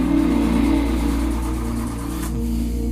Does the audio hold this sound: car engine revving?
yes